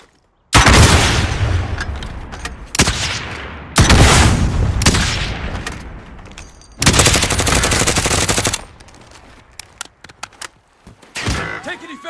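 Automatic gunfire in Call of Duty: Modern Warfare comes in loud, close bursts several seconds long, separated by short lulls, with sharp thuds and fainter scattered shots in between.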